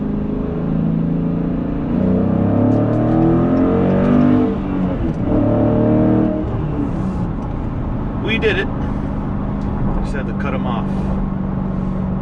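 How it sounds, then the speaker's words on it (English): A manual 2020 Dodge Challenger Scat Pack widebody accelerates in second gear, its engine rising in a loud, deep, continuous roar that climbs in pitch and then settles, with someone talking over it. "let's do a little second gear pull here when I get the shot"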